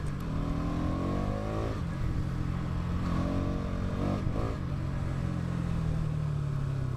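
A Bajaj Pulsar NS 200, a 200cc motorcycle, revs close by. Its engine note climbs and falls in pitch several times over a rumbling idle, with no talk.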